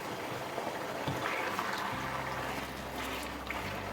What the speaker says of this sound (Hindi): यहाँ पे हम इसे फ्राई करेंगे, तकरीबन मीडियम आंच में हम इसे करेंगे।